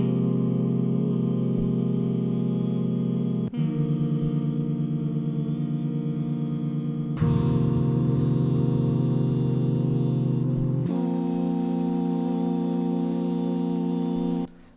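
Layered hummed vocals in a GarageBand arrangement of Cardigan, lightly pitch-tuned, hold steady sustained tones that change pitch in four long sections, close and continuous with no words.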